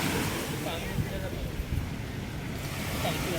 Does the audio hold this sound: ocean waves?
yes